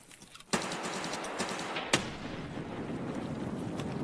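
Frag grenade bursting in Escape from Tarkov, a sharp blast at once followed by a second loud crack and a long rumbling, noisy tail, heard alone and fairly distant.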